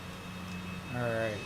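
Aircraft engines idling in Microsoft Flight Simulator at Concord-Padgett Regional Airport, a steady low drone and whine that rises briefly as the engine note climbs near the end.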